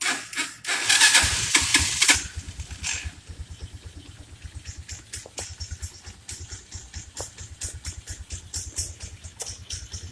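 A China 150 five-speed engine with a repaired carb and stator cranks and catches with a loud rev, then settles into a steady, fast idle putter with rhythmic exhaust pulses, close by, no talk.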